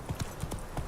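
Horse hooves galloping in the video game Witcher 3, with a quick run of four clip-clop hoofbeats sounding close and distinct.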